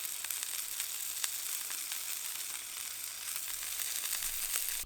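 Lunch sizzles steadily in a pan at a free campsite on the Fourth of July in Indiana, a continuous close crackle with small pops and no voices.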